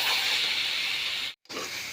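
Kalmou greens fry in a hot pan with a loud, steady hiss, broken by a brief moment of silence before the sizzle resumes.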